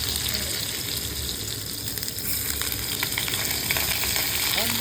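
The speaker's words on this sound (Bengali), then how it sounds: "চলো সবার প্রথমে আমি এগুলোকে আগে ভেজে নিই, সব কিছু একসঙ্গে দিয়ে দিই।" Food frying in a pan on a makeshift stove during flood displacement, a loud, close, continuous sizzle with occasional stirring scrapes from a ladle and no one speaking.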